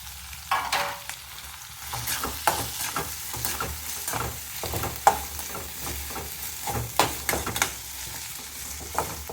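Chopped onions are added to hot oil with garlic for a squid roast, a continuous sizzle broken by repeated scraping stirs and clinks of a spatula against the pan, close and fairly loud, with no talking.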